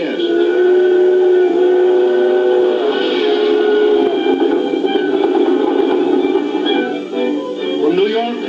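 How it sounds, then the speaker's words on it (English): Airway Limited passenger train pulling out of a station, steam whistle tones sustained over rumbling rail noise, loud and close throughout, with a voice speaking over it. "the Airway Limited, first and only train of its kind in the world, with a direct airline connection, pulls out with its air-minded guests"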